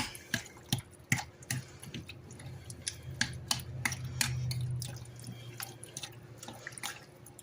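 Queso blanco cheese dip with Rotel tomatoes being stirred in a pot: soft, wet clicks and taps of the utensil come in an irregular rhythm close by over a low, thick churning, with no talking.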